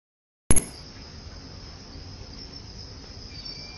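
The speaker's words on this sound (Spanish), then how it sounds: "En redes sociales se han difundido videos ciudadanos que dan cuenta de la proliferación de grillos en cantones de la costa" Crickets swarming in a coastal area during the rainy season make a steady, dense high chirring that starts suddenly after a sharp click and holds at moderate loudness, with no voices.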